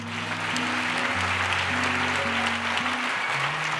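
A church congregation claps together, a dense steady patter that lasts the whole stretch beneath sustained keyboard chords.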